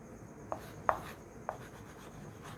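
Writing on a board during a grammar lesson, with three separate sharp taps or strokes spaced unevenly over a faint room hum and no talk.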